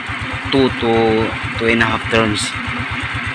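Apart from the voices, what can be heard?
Rusi Gala motorcycle engine running during carb tuning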